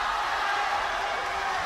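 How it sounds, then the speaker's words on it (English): Fencing crowd at a university games bout cheers on the French fencer, a steady broad roar of many voices filling the whole moment without a break. "you can hear the crowd now getting behind"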